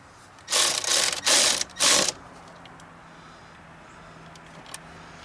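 A ratchet wrench fitted with an 8mm socket turns a bolt during a remote control winch install on a Massimo 500 MSU, giving four quick, loud ratcheting bursts in a row before falling quiet.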